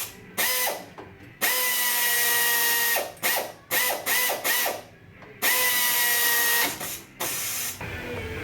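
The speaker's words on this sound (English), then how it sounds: "I'm going to use the air tool." Pneumatic air tool whirring in bursts as it tightens an AC compressor bolt on a 1980 Mercedes 450SL, several close, loud pulses separated by short pauses, with no talk.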